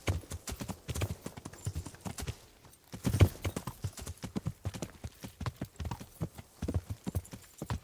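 Horse hooves clip-clop in a steady, brisk rhythm in the video game Kingdom Come: Deliverance, loud and close, with a few breaks between runs of steps.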